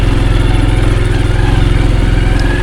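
A walking tractor engine running close by on a rural road in a village in southern Laos, loud and steady with a rapid thumping chug and no talk.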